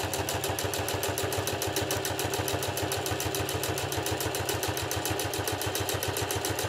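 A Singer Heavy Duty sewing machine running under its motor while stitching leather, a fast, even, loud needle beat repeating steadily and close, with the motor's hum underneath throughout.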